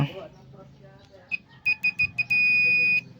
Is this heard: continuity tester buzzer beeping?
yes